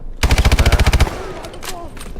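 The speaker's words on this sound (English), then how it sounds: "there are more people shooting from over there" Automatic weapon fire from Call of Duty: Advanced Warfare's first campaign mission: a loud, rapid burst of about a dozen evenly spaced shots, then a busier tail of distant shots and battlefield clatter.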